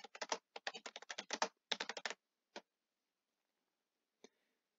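A computer keyboard is typed on in quick close-up bursts while a class is renamed in Microsoft Teams, followed by a lone keystroke, a pause and one final click.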